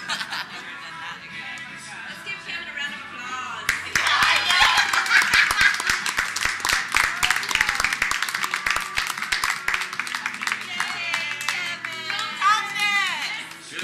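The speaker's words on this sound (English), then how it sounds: "Let's give Kevin a round of applause." A small group gives a round of applause during a Movember moustache-waxing session; after a few quiet seconds of talk, close, brisk clapping breaks out and carries on with laughter and chatter mixed in.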